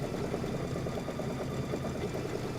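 A quilting sewing machine stitches in a steady, rapid mechanical chatter, moderately close and alone, with no voices.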